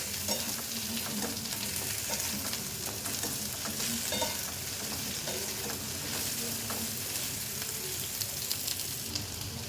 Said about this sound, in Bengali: দিয়ে দেবো কুমড়ো আর ভেন্ডি, এটাও 10 মিনিট ধরে ভাজবো